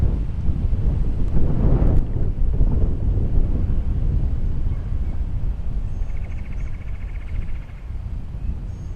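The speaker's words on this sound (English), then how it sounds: "Yeah, the wind's blowing at me now." Strong wind buffets the microphone in a steady, loud roar out on open water while fishing from a boat at Poague Conservation Area. Deep rumbling gusts swell early and then ease slightly, with no one speaking.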